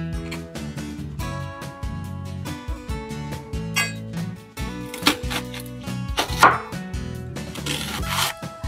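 Knife roughly chopping onion and celery on a board for tomato bisque, with repeated uneven thuds and clinks close up over a steady background of music.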